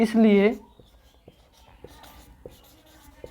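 A pen taps and scratches on paper while a maths solution is written out, giving faint, evenly spaced ticks after a short burst of speech, then the writing carries on alone.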